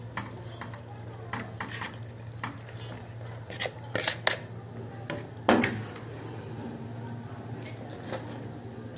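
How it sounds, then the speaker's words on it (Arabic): Pasta being stirred into simmering tomato sauce in a pan, soft scraping and clinking of a utensil against the pan over a steady low hum, with occasional sharper knocks. "هقلبها في الصلصة بس كده"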